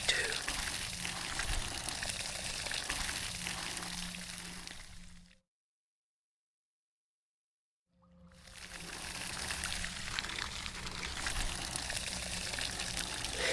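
Continuous rushing water, like a steady flow or pour, cutting off abruptly into silence for a few seconds before resuming at the same level.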